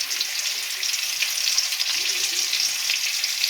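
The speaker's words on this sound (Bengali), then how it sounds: "ডিমগুলো আমি ভেজে নেব" Eggs frying in hot oil with turmeric for a Bengali egg curry, a steady bright crackling sizzle with fine popping spatter, close and continuous with no talking.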